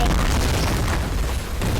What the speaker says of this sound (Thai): เมื่อกี้ยิงปืนไปแล้ว จุดระเบิด ไปเลย